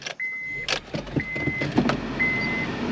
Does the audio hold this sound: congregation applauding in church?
no